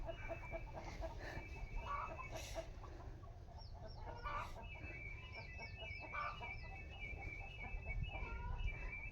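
Chickens cluck repeatedly at close range, with a few sharper calls scattered through and steady low background noise throughout.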